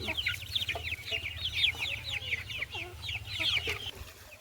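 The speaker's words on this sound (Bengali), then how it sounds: "আমাদের এই দেশি মুরগিগুলো প্রতিদিন দেখছি এখন উঠে উঠে ডিম দিচ্ছে একটা করে" Native desi hens clucking in quick, repeated bursts close by, over a low steady mechanical hum.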